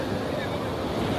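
Waves wash in on a long sea beach at low tide, a continuous close surf roar with steady wind buffeting the microphone, no voices heard over it.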